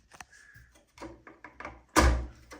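Cheap plastic drive tray doors on a Terramaster D4-300 USB-C enclosure are worked open with small clicks and rattles, ending in a louder hollow clack, all close up and without speech.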